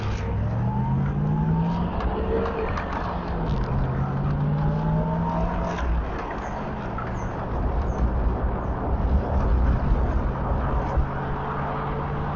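A 1980 Triumph TR8 drives along a road at steady highway-type speed, its engine droning continuously with shifting pitch as it accelerates and settles, over constant road and wind noise.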